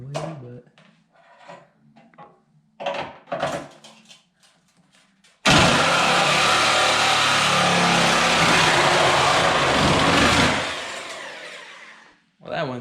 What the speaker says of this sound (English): Gotta love Sawzall